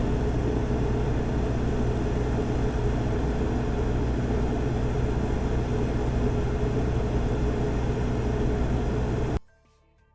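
Cummins Quiet Connect standby generator of about 38 to 40 kW, fitted with a Level 2 sound kit and running at 100% load, gives a steady broadband engine hum and whoosh with no pauses, then cuts off abruptly at the end.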